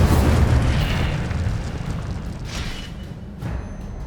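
A roaring burst from the Incendio fire spell in Hogwarts Legacy, loud at first and then rumbling down into a lingering crackling wash with a few faint later pops.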